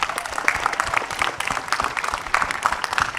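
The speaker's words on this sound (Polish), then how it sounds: "Brawa!" A crowd claps steadily and enthusiastically, a dense wash of applause filling the room without pause.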